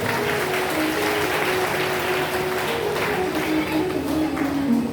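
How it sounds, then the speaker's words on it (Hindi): An audience at a Bhagwat Katha religious gathering claps steadily, a fairly loud, even patter of many hands that keeps up throughout, with a faint tone and crowd murmur underneath. "तो उनके लिए ताली बजाओ, सरौता के लिए"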